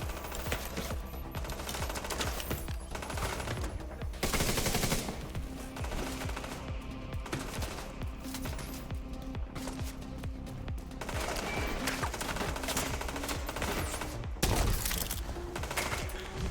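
Gunfire in The Division 2 during the Warlords of New York expansion: sustained automatic bursts and rapid shots fire almost without pause, loud and close, with no talking.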